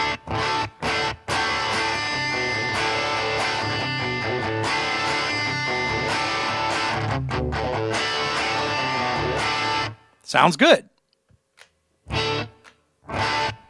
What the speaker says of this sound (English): I'll just change the pickup on a guitar, change the sound. More distortion, more rock and roll, right?